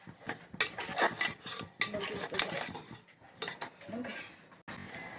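Potatoes are stirred and sautéed in a pan while cooking a white peas dish, a spoon scraping and clinking against the metal in uneven bursts, close and fairly loud, with a brief pause near the end.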